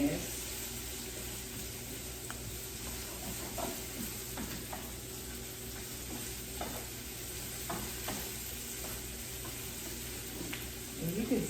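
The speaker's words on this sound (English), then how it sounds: "just saute it. Get them soft. With your olive oil." Vegetables sautéing in olive oil for a turkey taco casserole, a steady broadband sizzle running throughout with occasional stirring clicks and faint voice and kitchen sounds underneath.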